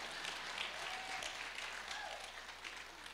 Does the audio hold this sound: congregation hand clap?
yes